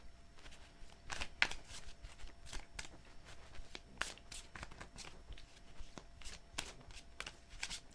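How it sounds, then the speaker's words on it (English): Tarot cards are shuffled by hand close up, a rapid run of soft papery riffles and flicks in uneven bursts, quiet and without speech. "Two more shuffles."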